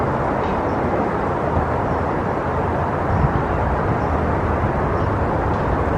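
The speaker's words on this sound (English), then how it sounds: "airplanes are taking off." Steady, loud rumbling roar of airplanes taking off near Old Town and Belmont Park in San Diego, a continuous broadband drone with no break and no talking.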